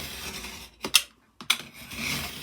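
A knife scores shallow cuts into a journal cover board, two crisp scraping strokes about half a second apart, close and fairly quiet, with a brief silence between them.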